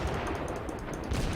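Heavy naval guns from the German cruiser Kolberg firing in World of Warships, a short dense stretch of booming, rumbling shots with a deeper thump near the end.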